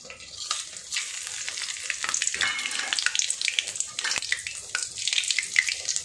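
Spices fry in hot oil for a country chicken fry, a continuous crackling sizzle that rises and crackles more sharply as stirring clatters intermittently, close and fairly loud.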